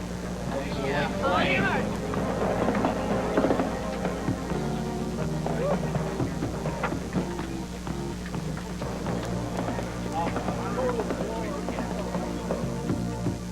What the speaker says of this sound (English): we're looking at the SST-90 class here with tunnel hulls and 3-cylinder engines, Peter.